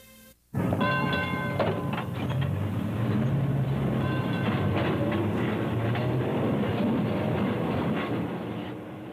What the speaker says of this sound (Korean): 거리를 휘돌아다니는 전차 소리가 그나마 한순간의 위안이었습니다